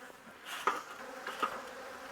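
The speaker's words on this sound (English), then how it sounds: "There's so many bees here on the tops of the frames now that we've broken all that honey out." Honeybees buzz close by over the tops of hive frames after honey has been broken out, a wavering insect drone with individual bees swelling and fading past.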